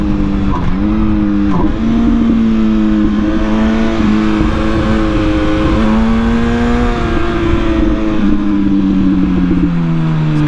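An MV Agusta Brutale 1000 Serie Oro limited-edition motorcycle engine pulls hard and accelerates on a road past cars, its loud, steady roar rising in pitch through the gears with no talking.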